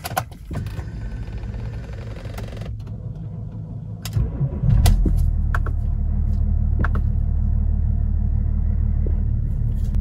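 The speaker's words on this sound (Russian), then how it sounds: "И запускаем двигатель автомобиля для проверки." BMW X5 E53 engine cranking and catching, then settling into a steady low idle rumble, close and continuous with a few clicks and knocks over it.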